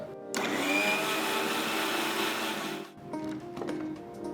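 A kitchen mixer grinder whirs loudly as it grinds ginger, green chilies and curry leaves, running steady for a few seconds before cutting off, followed by faint clinks and rattles.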